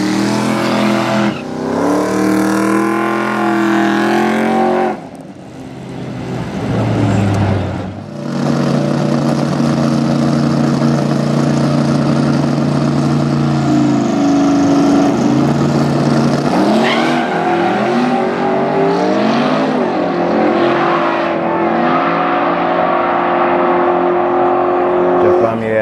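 An old-school Corvette and a Camaro drag race. Loud engines rev and roar at the line, dip briefly, then blast off in a sustained, rising high-power run, with announcer talk underneath.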